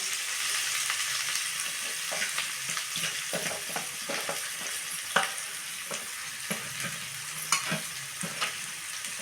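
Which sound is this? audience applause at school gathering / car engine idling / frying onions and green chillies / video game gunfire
frying onions and green chillies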